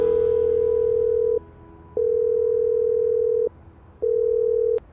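A telephone ringing at ten at night as a steady electronic tone in long bursts separated by short silences, three to four rings in a row, clear and alone.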